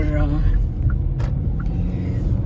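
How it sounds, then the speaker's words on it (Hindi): Steady low road-traffic rumble from passing cars in a busy street, continuous throughout and close by, with someone talking over it. "लेकिन काफ़ी ट्रैफिक है यहाँ पे"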